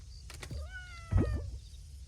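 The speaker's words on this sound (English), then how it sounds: "That was the cat." A cat meows in the video game Coral Island, a few short harmonic cries repeated alone over quiet game ambience, the last pair louder and rougher.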